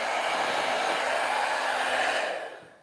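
A Conair Infinity Pro hair dryer running on its low, cold setting gives a steady, close airy whoosh with no talk, holding constant before tapering off at the end.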